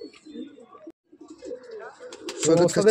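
Pigeons in a Madrasi pigeon loft coo in low, soft murmurs throughout, with a louder burst of flapping and calls near the end while people talk nearby.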